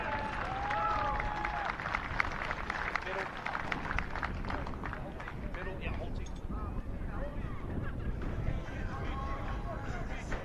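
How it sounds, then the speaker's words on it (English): Sustained crowd applause and clapping for the runners-up at a youth rugby league final, a dense, steady patter of many hands from an outdoor crowd with voices mixed in. "Once again, round of applause"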